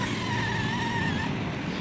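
A John Deere tractor engine labouring as it climbs, a steady loud drone with a rising whine, heard close and alone.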